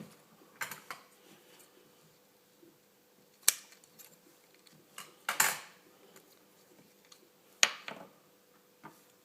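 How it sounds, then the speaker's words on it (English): Scissors snip the tag off a VW car key in a few sharp, close clicks spaced apart against a quiet room, with light handling noise between cuts. "We can cut this tag off."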